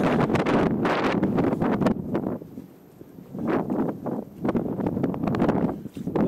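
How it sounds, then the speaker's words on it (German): Gusting wind out by a canyon buffets the microphone in rough, roaring bursts, easing briefly midway before picking up again. "Und dann der Wind hat so ein bisschen aufgefrischt. Hier draußen am Canyon."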